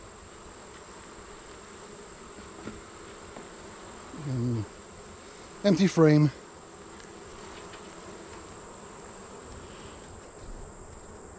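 During an August hive inspection, a swarm of honey bees hums in a steady buzz throughout, while someone speaks briefly over the sound.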